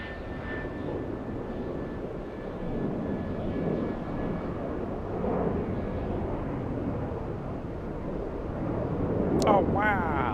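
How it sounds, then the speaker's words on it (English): Lufthansa Airbus A330 taking off at Atlanta's Hartsfield-Jackson airport, a broad distant jet engine roar holding steady and swelling slightly, with a faint tonal whine early on and a brief sharp sound near the end. "We have the A330 taking off."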